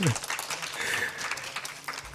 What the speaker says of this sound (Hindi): नहीं, ताली बजा सकते हैं।